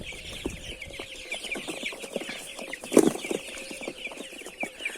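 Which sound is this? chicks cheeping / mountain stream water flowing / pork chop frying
chicks cheeping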